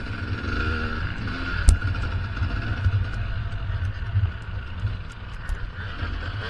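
A dirt bike on a motocross track at an NMA spring race, its engine droning steadily beneath heavy wind buffeting, with a sharp knock partway through and another rider passing nearby.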